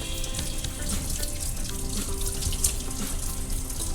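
Tap water runs steadily into a sink while hands are rinsed, a continuous close splashing hiss with small fluctuations, alone without any voices.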